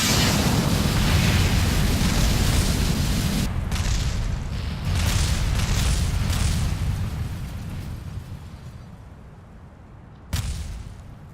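A medium tank fires its cannon: a loud blast followed by a long, rolling rumble that slowly fades over several seconds, then a second sharp burst near the end.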